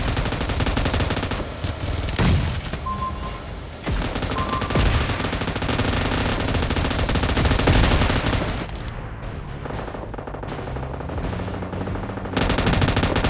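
Heavy automatic gunfire in the mobile battle game PUBG Mobile, loud rapid bursts layered with dense in-game sound and effects, continuing almost without pause across the whole stretch.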